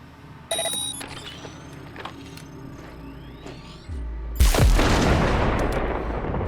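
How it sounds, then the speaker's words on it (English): A grenade detonates in Cyberpunk 2077: a deep rumble swells, then a loud, close blast bursts and rolls off into lingering debris and crackle after earlier scattered impacts and clicks. "Now, detonate the grenade."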